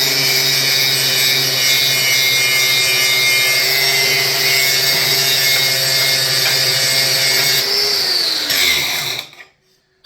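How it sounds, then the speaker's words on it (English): A Dewalt DW831 5-inch angle grinder runs loud and steady with a high motor whine, grinding rusty metal up close, then spins down and stops near the end. "There's not a lot more to say about a grinder other than it grinds."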